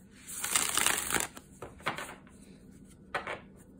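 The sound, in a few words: shuffling oracle cards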